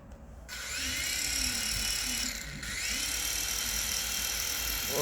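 A small RC helicopter with a twin-blade rotor spins up, its electric motor giving a high, steady whine that briefly dips and then climbs again, close and continuous, with faint low sounds in the background.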